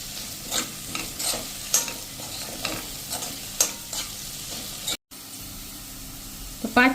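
Chopped coriander stems sizzle in hot oil for a sorghum pulav while a spoon stirs them, with repeated scraping strokes over a steady frying hiss and a brief dropout near the end.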